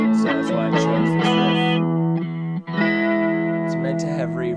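An electric guitar plays a familiar riff clean through a 1970s Fender Champ amp. The notes are loud, close and ring out with sustain, and the riff is heard on its own with no voices.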